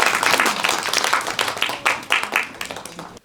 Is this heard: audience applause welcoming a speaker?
yes